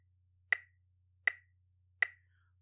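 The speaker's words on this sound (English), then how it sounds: "If we counted this using our metronome," Three crisp metronome clicks spaced evenly about three-quarters of a second apart, counting eighth notes for a music theory lesson, each a sharp isolated tick against a faint low hum.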